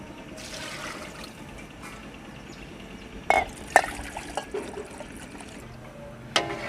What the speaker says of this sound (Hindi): 2 केजी हमारे चावल हैं और 3 केजी हम इसमें पानी डालेंगे